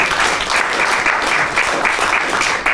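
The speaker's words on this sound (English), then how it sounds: "Give everyone a big clap." Audience applause at the close of a panel discussion on electrification, a continuous wash of many hands clapping, loud and even for the whole stretch.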